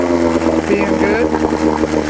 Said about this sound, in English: That's the idle. A little fast.